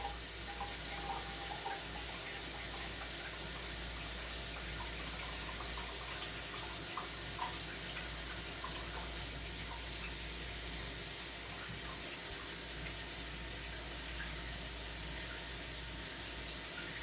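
Hot water from a kitchen tap runs steadily over raw chicken for soup, a constant even hiss and splatter with no pauses and no voices.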